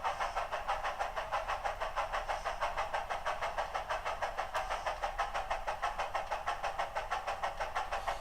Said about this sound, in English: You're going to hear that exhaust tone change as we implement function 5